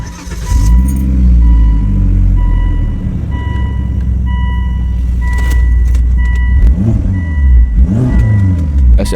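A 2005 Volvo S60 R sedan with its AWD turbo engine idles with a deep rumble, then revs up several times, the pitch rising and falling in loud, close bursts.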